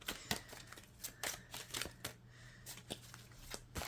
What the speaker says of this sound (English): we're going to shuffle to get a few more cards